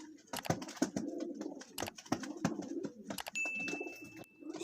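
Red-eyed pigeons coo in soft, repeated rolling calls close by, mixed with sharp wing flaps and rustling and a brief high whistle.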